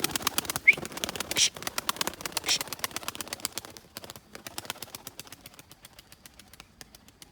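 A pigeon takes flight, rapid wing flaps clattering in a quick fluttering burst, then fading to softer flapping, with faint background noise.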